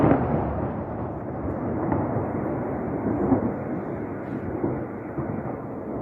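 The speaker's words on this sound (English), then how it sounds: "very stark footage there coming out of Lviv from those missile strikes" Cruise missile strikes hit Lviv, Ukraine, heard as a distant, heavy, muffled rumble that rolls on steadily with faint swells. There is no speech over it.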